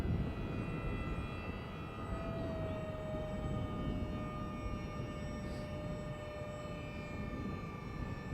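A steady, droning engine whine with a sustained high tone holds throughout, an Esky Eagle model airplane buzzing overhead against a constant rumbling background.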